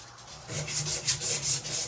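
Old copper pipe rubbed clean with an abrasive, a close, rhythmic scraping of about six quick strokes after a brief quiet start.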